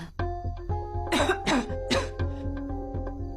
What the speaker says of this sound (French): je tousse depuis ce matin